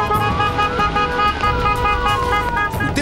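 Car horns honk loudly and continuously in a funeral procession of app-based ride-hailing drivers, overlapping blasts of several vehicles close by with traffic noise underneath.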